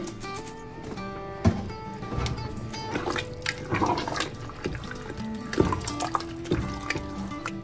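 Water poured from a barbecue-sauce bottle into a cooking pot, a steady splashing pour with gurgles and a few knocks, close and fairly loud with no talk.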